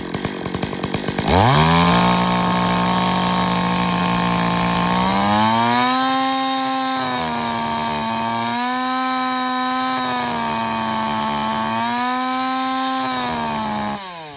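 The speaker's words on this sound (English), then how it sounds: "show you what the blubber or that sputter sounds like at high and then cleans" A chainsaw engine starts up and screams at high revs during carburetor tuning, the pitch holding steady then dipping and surging again in several waves, loud and close.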